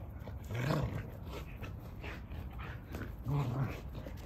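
A dog growls low in bursts while tugging at a toy during play, two rumbling growls standing out close by against soft background noise.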